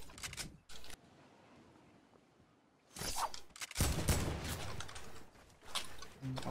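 Bursts of AK rifle fire in the video game Fortnite: a short rattling burst, a quiet stretch, then heavier sustained automatic volleys and a final burst, close and loud.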